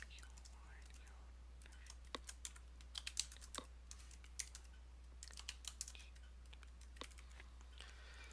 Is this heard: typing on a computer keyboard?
yes